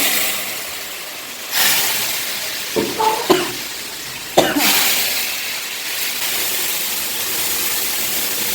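Spices tempering in hot oil for khichdi during a home puja, a steady broadband sizzle that surges in sharp bursts as ingredients hit the pan, with clinks of utensils in between and no talking.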